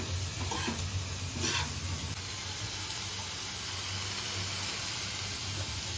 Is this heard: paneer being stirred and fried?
yes